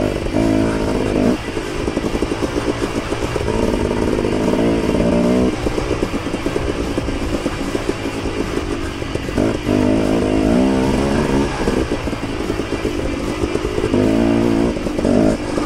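A dirt bike rides a single-track trail in Taylor Park, Colorado, its engine loud and close throughout, rising and falling in repeated revving bursts over the rattle and clatter of rough ground.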